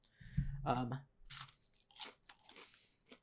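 Someone crunching on onion rings, a few close bites and chewing crunches broken up by bits of talk.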